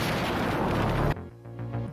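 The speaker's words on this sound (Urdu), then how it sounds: "بندر عباس میں ایک زوردار دھماکے کی آواز سنی گئی" A powerful explosion at the port of Bandar Abbas, Iran, roars as loud, dense broadband noise for about a second. It then cuts off abruptly to quieter, rhythmic rumbling.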